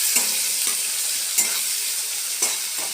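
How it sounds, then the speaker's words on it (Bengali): Chopped tomato and onion fry in hot oil with a pinch of salt while being stirred, a constant bright sizzle punctuated by several scraping stirs of a spatula against the pan, no talking. "তার মধ্যে টমেটো আর পেঁয়াজ কুচিয়ে দিয়ে দিলাম। এবারে এটাকেও ভাজবো।"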